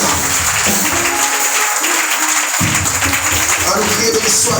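A church congregation claps during a worship service while voices and sound from the sanctuary continue underneath, giving a loud, busy mix of applause and talk over several seconds.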